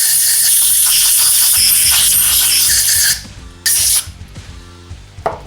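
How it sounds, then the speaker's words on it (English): Compressed air hisses loudly and steadily into a Suzuki RF 900 motorcycle carburetor orifice for about three seconds, cuts off, gives one short blast, then fades to faint handling noise. "You can also use compressed air."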